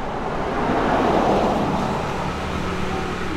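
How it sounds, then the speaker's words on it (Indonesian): A car passes by outside, a steady broadband road rumble that swells gently and fades slightly over a few seconds, with no talk over it. "Bentar, ada mobil lewat."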